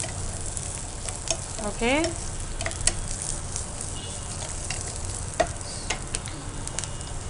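Capsicum pieces frying in a pan for a paneer capsicum fry, giving a steady soft sizzle with occasional stirring clicks and scrapes under a brief spoken word.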